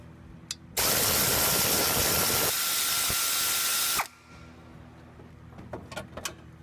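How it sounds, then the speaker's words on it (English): A power ratchet removes the 10mm bolts on the fuel rail of a Town and Country. It gives one loud, steady, whirring run of about three seconds with a pitch change partway through, then goes quiet apart from faint clicks of the tool. "It's got 4 10mm bolts that have to come off to pull it up."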